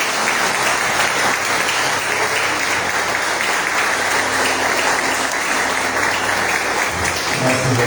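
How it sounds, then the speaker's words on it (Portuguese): A church congregation applauds in praise, a loud, continuous roar of many hands clapping that stays dense and even for nearly eight seconds, close and filling the room. "As palmas louvem o Senhor."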